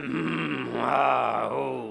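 A voice imitates snoring during a yoga breathing session, making a sustained, droning throat sound that rises and falls over about two seconds.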